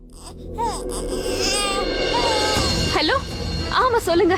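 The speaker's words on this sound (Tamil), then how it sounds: "குழந்தை அழுகிற சத்தம் கேக்குது மேடம்" An infant cries loudly and continuously, rising into wailing sobs close by, while someone talks on the phone over it.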